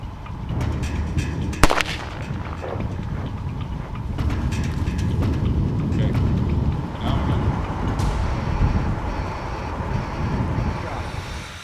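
A single sharp rifle shot rings out during a bison hunt, cracking over a constant rumbling outdoor background of wind and low noise.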